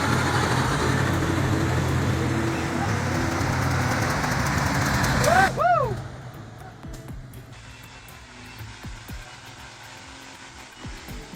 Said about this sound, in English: the white truck hauls the blue beast back to life.